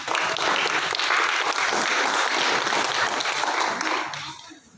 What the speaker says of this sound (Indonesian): Terima kasih, kita beri tepuk tangan.